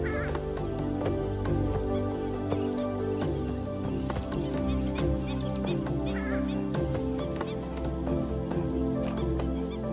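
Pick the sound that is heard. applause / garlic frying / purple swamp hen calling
purple swamp hen calling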